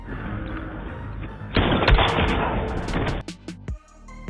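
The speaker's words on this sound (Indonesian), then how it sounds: "Alhasil aksi tembak-tembakan pun tak terelakkan" Bursts of gunfire in a film shootout over a dense, loud background, followed by a few sharp separate shots as the noise cuts out.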